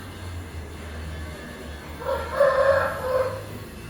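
A rooster crows at mid distance, one drawn-out wavering call that rises and holds for about a second and a half after a quiet stretch with low hum.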